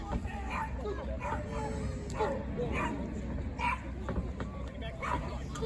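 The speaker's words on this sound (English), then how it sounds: "The dog is pissed." A dog at an outdoor wrestling event at a drive-in barks and yelps repeatedly in short bursts, fairly near, over steady crowd murmur and background noise.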